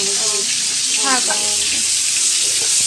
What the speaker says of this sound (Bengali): আর এখন মা মাছটা ধুচ্ছে